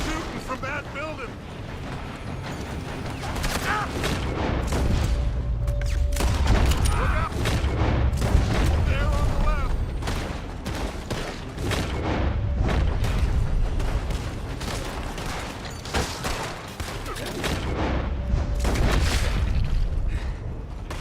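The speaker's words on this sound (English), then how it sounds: "They're shooting from that building!" Gunfire from a building in Red Dead Redemption 2, with heavy booming shots and dense volleys continuing throughout amid a loud low rumble and other game noise, and voices shouting over it.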